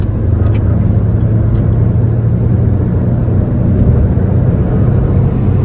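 A Renault Duster diesel with an AMT gearbox cruises at triple-digit speed in fifth gear, its engine and road noise forming a loud, steady, continuous low drone that fills the whole stretch.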